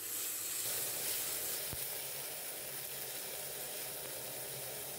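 Tomato and curry leaves sautéing in a pan for a Kerala kingfish curry, a steady close sizzle and hiss of frying that runs evenly throughout with no talking.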